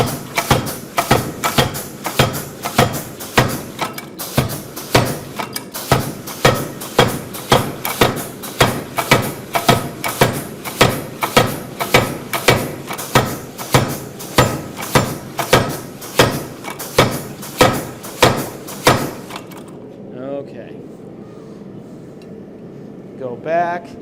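Hammer blows forging steel for a chopper blade ring out in a steady, rapid rhythm of loud, evenly spaced strikes for about twenty seconds, then stop, leaving quiet shop noise.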